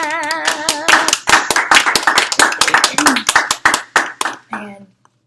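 Quick, sharp hand claps ring out in a rapid run over a few seconds, close and loud, while a person keeps talking throughout before the sound cuts off.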